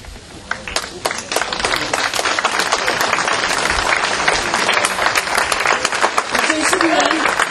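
Loud, sustained applause from a room of lawmakers at a parliamentary caucus meeting after a floor-leader election result, dense clapping throughout with a few voices mixed in.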